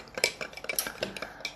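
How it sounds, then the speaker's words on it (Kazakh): A spoon clinks and scrapes against a glass while two spoonfuls of powder are stirred into about 100 grams of warm water, a quick run of light ringing taps and swirls, close and quiet. "Сосын соған 2 қасықты салып, осындай араластырып"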